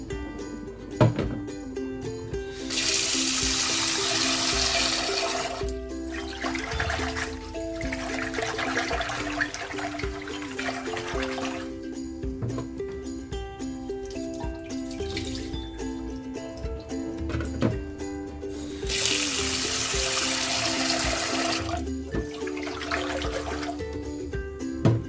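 Running tap water at a kitchen sink while rinsing, a close rushing stream that swells and drops in several bursts over a steady hum and tonal background, with occasional splashes and drips.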